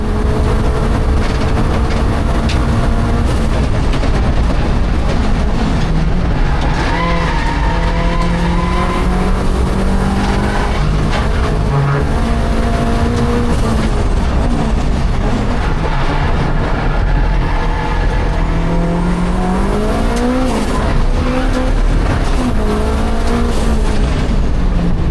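Onboard a K20-turbocharged Nissan Micra lapping Brands Hatch in time attack, the engine roars loud and continuous, rising and falling through gear changes with tire and wind noise, no voices.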